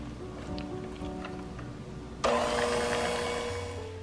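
An electric mixer blending canned pumpkin puree into a cream cheese icebox cake filling, a steady whirring hum that jumps abruptly to a louder, harsher roar partway through.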